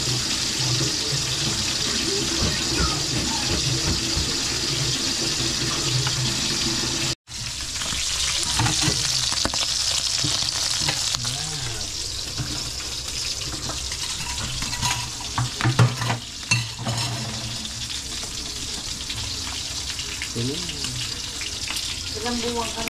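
Food frying in a pan sizzles steadily in a home kitchen, with clatter and stirring noises, a brief dropout, and faint voices underneath.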